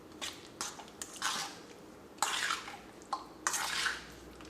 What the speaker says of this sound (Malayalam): മസാലകളെല്ലാം കൂടിയിട്ട് നമുക്ക് ചിക്കനിൽ നന്നായിട്ടൊന്ന് മിക്സ് ചെയ്യാം.